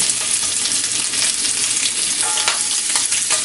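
Kielbasa pieces frying loudly in a pan, a dense continuous sizzle close up, with a few light clinks and shifts as pieces are flipped over; no one speaks.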